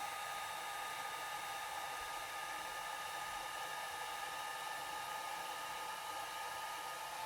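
A hair dryer blows steadily on an alcohol ink painting of a coneflower, a continuous close whooshing drone with no pauses and no speech.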